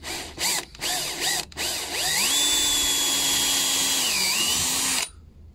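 A power drill fitted with an 8mm bit drills into a wooden chair, starting with a few brief stuttering bursts, then settling into a loud, steady whine that rises slightly before stopping abruptly.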